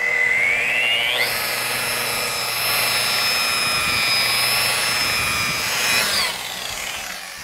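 A rotary polisher spins up with a rising whine, then buffs car paint with compound in a loud, sustained high-pitched hum that holds steady for several seconds before winding down at the end.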